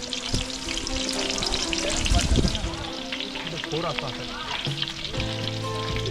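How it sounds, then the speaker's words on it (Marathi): Onion sizzles in oil for a chicken dish cooked outdoors in dense forest at Shrivardhan, a steady close frying hiss with a louder burst of crackle midway and voices talking around it. "पहिला कांदा टाकून घेतला आपण आहे तेलामध्ये"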